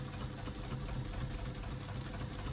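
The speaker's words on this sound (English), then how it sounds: "you should be able to sew through it very easily" A sewing machine stitches through foam for a bag, a steady, continuous mechanical whir with a fast rhythmic needle chatter, close and loud without pause.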